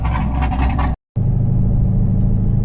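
Chevrolet Camaro fitted with a Borla Switchfire exhaust accelerating hard in a 40 to 100 run, a loud, dense engine roar broken by a brief gap, then a deeper steady rumble.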